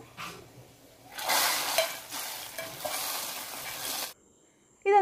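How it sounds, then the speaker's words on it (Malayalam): A hot tempering of dried chillies and curry leaves is poured into a Kerala sambar made in a pressure cooker. It bursts into a loud, crackling sizzle that lasts about three seconds and then cuts off abruptly. "ഇത് ഡയറക്റ്റ് നമ്മുടെ സാമ്പാറിലേക്ക് നമ്മളൊന്ന് ഒഴിച്ചു കൊടുക്കുവാണ്"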